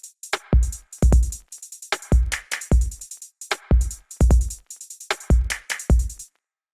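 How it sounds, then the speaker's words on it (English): A step-sequenced electronic drum beat with crisp hi-hats and punchy kicks in a steady looping pattern, finishing with a short clap fill at the end, alone with no talking. "just a little clap fill at the very end"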